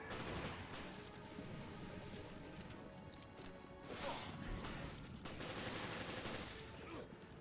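Repeated gunfire in the video game Resident Evil: Revelations, a dense stream of shots and impacts over a busy game soundscape, steady and moderately loud throughout without pause.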